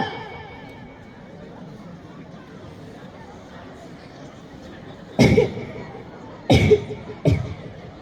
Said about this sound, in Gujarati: તમને તો કેટલા દિવસથી ઉધરસ થઈ છે